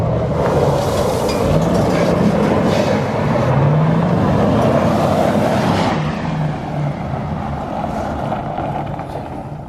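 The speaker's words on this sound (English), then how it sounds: "That is a supercharged 5-speed swapped Crown Vic with a hydro, ready to rip" A supercharged Ford Crown Vic swapped to a 5-speed manual, with a hydraulic handbrake, drives along with a loud, steady engine and road roar, the pitch rising and falling through shifts before easing off near the end.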